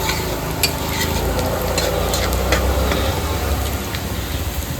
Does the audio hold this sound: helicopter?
no